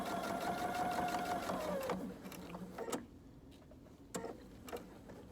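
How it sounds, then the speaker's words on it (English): Sewing machine stitching across the bottom of a back pocket on pajama pants, a steady whirring run for about two seconds that stops, followed by a few quiet clicks and taps. "I'm gonna sew across the bottom to the point, and then I'll pivot again to go on the other side"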